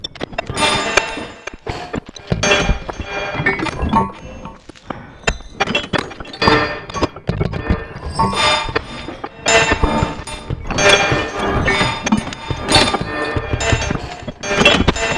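Clinking, glassy synthetic tones scattered in irregular bursts, layered into a busy, shimmering electronic texture with no voices.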